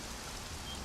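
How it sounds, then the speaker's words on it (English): Rain falling in the video game Conan Exiles, a brief, faint, steady hiss of rainfall with no voices. "I love all this rain, honestly."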